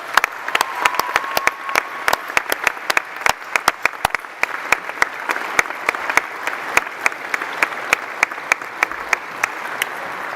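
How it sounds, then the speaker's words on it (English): Graduation ceremony audience applauding steadily, dense clapping with sharp individual claps standing out, sustained and fairly loud throughout. "so let's give them a round of applause again"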